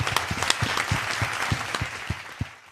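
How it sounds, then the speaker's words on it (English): Hand claps in a steady, evenly spaced run at an IUIC gathering, about eight sharp close claps over a faint diffuse background, with no talk over them. "Another hand clap."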